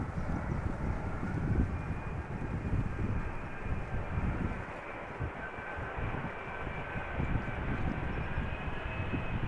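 A Boeing 777 arriving at Amsterdam Schiphol Airport in crosswind conditions, a steady broadband engine roar with a faint whine, sustained and fairly close throughout without talk.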